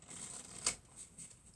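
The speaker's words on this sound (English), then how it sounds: "Okay, we get another shuffle." A deck of playing cards is shuffled by hand in a quiet room, with one crisp riffling burst near the middle and soft handling rustles around it. No voices.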